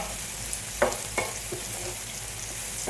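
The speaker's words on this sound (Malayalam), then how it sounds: "ഈ സവാളയിലേക്ക് ഒരു ലേശം ഉപ്പിട്ട് കൊടുക്കുകയാണ്, പെട്ടെന്നൊന്ന് മൂത്ത് കിട്ടാനായിട്ട്." Sliced onions frying with a pinch of salt in a pan make a constant close sizzle, broken by a few sharp scrapes of a spoon against the pan, with no voices.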